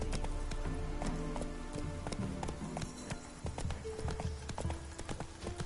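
Roach the horse galloping in The Witcher 3 on PS5, rapid rhythmic hoof clip-clops pounding close and loud over a dense game soundscape with rattling gear.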